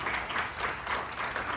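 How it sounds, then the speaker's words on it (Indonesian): Congregation applause fills a church service, a steady wash of many hands clapping at moderate volume for the whole short stretch, with no voices rising above it. "Ayo coba beri tepuk tangan yang meriah-meriah kita."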